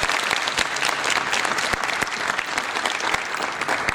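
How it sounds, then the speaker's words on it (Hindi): Audience applause greets a speaker at a Hindi book release event, a dense, steady wash of many hands clapping close and loud, with a few sharper individual claps standing out and no speech over it. "तो एक बार राजेंद्र तिवारी जी के लिए हम तालियों के साथ उनका अभिवादन करें।"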